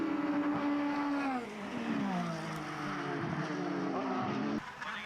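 Formula race cars, including an older Lola chassis, racing around a hairpin on an Irish circuit. The engines scream, high and loud, with pitch dropping and rising through gear changes, and a commentator talks over them.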